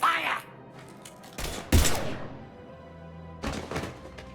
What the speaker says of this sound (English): Now open fire!